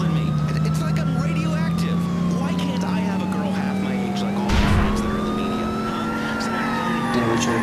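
A car engine drones steadily in the video game GTA IV while a siren wails and rises and falls over it, with a brief louder burst midway and a voice talking over the game audio.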